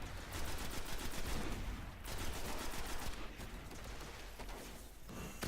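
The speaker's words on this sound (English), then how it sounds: "Use my shotgun on these guys, which is much more powerful than the assault rifle, auto rifle" Rapid gunfire from the video game Destiny, dense overlapping shots and bursts running almost continuously with brief lulls, loud and busy with no talking.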